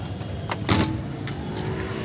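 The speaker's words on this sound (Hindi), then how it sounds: "गाड़ी का शीशा बंद कर देते हैं" A car's power window hums briefly as it closes, a short motor whir near the middle followed by a faint second whir, set against low steady engine background.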